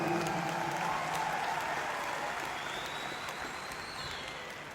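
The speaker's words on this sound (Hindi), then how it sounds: "एक जोरदार तालियां" Sustained applause fills a hall at a direct-selling wellness company event, a dense, even clapping from a large audience that slowly fades over a few seconds, with no speech over it.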